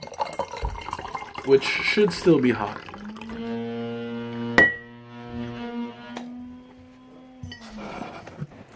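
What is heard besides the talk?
pouring hot tea out of a teapot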